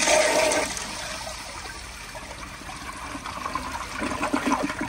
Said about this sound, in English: So now I'll do another flush.